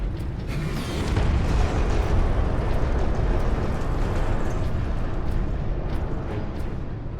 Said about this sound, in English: Gun firing.